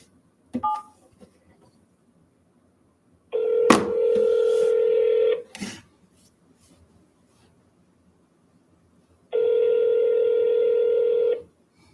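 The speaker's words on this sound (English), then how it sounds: "To dial your lead." A telephone places an outgoing cold call to a real estate lead. A few short clicks lead into two long, steady electronic tones separated by a pause, then a crackling click, clear and close with no speech.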